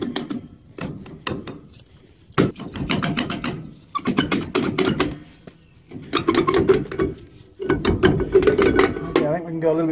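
A brake adjuster clicks on the rear brakes of a Ford Courier pickup, a series of sharp ratcheting clicks in short bursts with pauses between them, close up.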